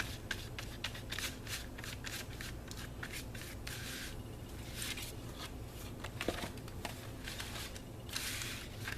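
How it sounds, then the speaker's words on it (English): Thick gesso is worked by hand onto cardboard or chipboard, giving a steady run of close scraping and rasping strokes in quick, uneven rhythm, with a few brighter scrapes standing out near the end. "I'm just going to work this gesso into this cardboard"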